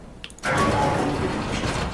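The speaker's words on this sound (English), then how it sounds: "Close the door behind me." A sliding metal door in the sci-fi game SOMA shuts with a loud mechanical whoosh and grinding slide, heard up close and alone after a brief faint click.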